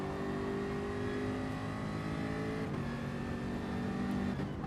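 Race cars in a racing video game at the Barcelona-Catalunya circuit, engines droning steadily and loudly with sustained high revs and a brief gear shift midway, no talk over them.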